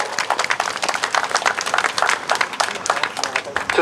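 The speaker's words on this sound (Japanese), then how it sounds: "拍手を送っていただければと思います。" Crowd clapping at an outdoor political rally, a dense, steady patter of many hands held at an even level for several seconds, with some voices mixed into the mass of claps.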